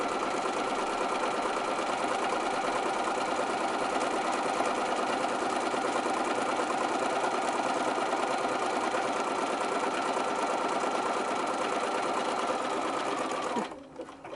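A sewing machine runs steadily as it stitches fabric strips for junk-journal ephemera, a close, continuous whirring hum held for about thirteen seconds before stopping abruptly.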